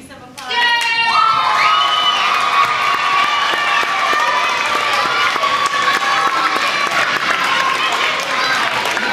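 An elementary school arts audience erupts in loud applause and cheering for the stage crew, with high children's shouts and whoops over sustained clapping that swells within the first second and then stays strong.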